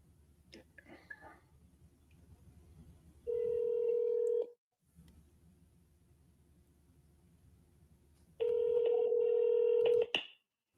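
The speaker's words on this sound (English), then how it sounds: "Okay, so I'm going to try dialing this RJ, see if he answers." Telephone dialing tones on an outgoing call: two sustained tone bursts, each about a second long, separated by quiet stretches with faint low background hum and soft sounds.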